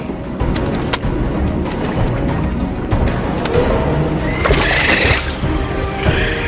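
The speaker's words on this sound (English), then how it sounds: "the birds steal from each other, as befits pirates of the air" Caribbean seabirds call over open water, with sharp repeated cries near and far against a constant wash of splashing sea, the calls growing busier and louder toward the end.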